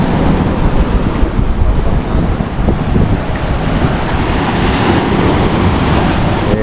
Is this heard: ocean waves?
yes